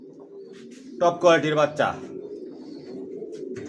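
Racer pigeon chicks in a loft coo in a low, steady murmur close by, while someone talks briefly over them.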